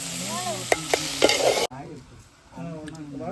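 Masi karuvadu (dried fish) cooking in a pan, giving a close, steady sizzle and bubbling with a few sharp stirring clinks, then a brief drop to a quieter simmer.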